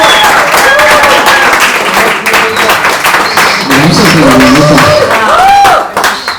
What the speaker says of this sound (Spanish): un aplauso muy grande de corazón